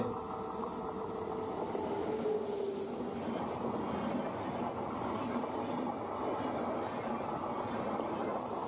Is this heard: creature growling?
no